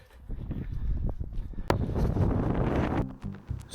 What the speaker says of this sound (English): So the wind was quite bad,